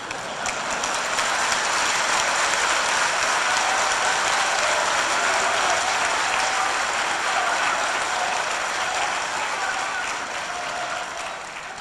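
Audience applause fills a state-level teachers' honour ceremony during the Chief Minister's address: dense, steady clapping, loud and close, sustained without a break for the whole stretch.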